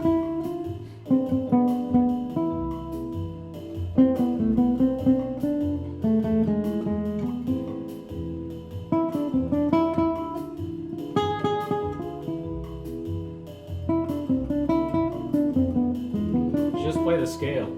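Someone plays melodic lines on an instrument using the A harmonic minor scale over a repeating backing vamp, with moderate volume and a steady rhythmic accompaniment and no talking.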